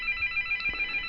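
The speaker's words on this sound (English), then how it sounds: "You'll have to excuse my phone ringing." A telephone rings faintly in a room, a soft repeating electronic trill pulsing in short regular bursts with a brief click partway through.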